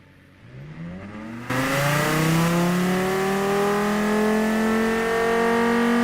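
A video game race car engine on a dyno idles, then jumps to a loud sustained rev that climbs steadily in pitch, a continuous high-pitched roar.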